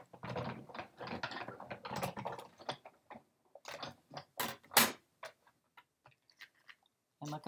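A Sizzix die-cutting machine is hand-cranked, feeding paper through a 3D embossing folder with a single cutting pad, giving irregular ratcheting clicks and gear ticks close by, with a few sharper snaps midway.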